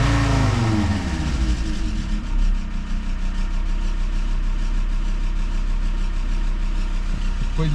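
A diesel engine runs just after its injection pump timing has been reset, first rising through a rev and then settling into a steady, loud, rough drone with a constant low rumble.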